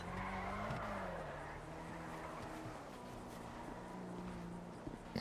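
Cars drive in a video game backyard scene, a steady engine drone with faint tire noise and shifting pitch, moderately distant and low in level, heard without talk.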